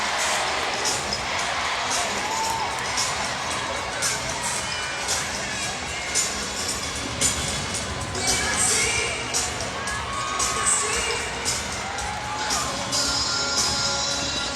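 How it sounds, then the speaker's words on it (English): A crowd of about 10,000 fans cheers and shouts at the 2019 SEC women's gymnastics championships at the Smoothie King Center arena, a dense, loud roar with rising bursts, and a commentator talks over it. "Big crowd on hand"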